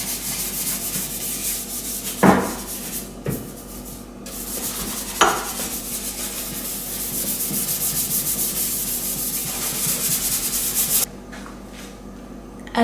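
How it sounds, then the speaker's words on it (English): A kitchen sink scrubbed with a Lakeland scrubbing brush: steady, close, rough rubbing strokes continue throughout, with a few sharper scrapes and knocks along the way. "And then just give everything a really quick scrub."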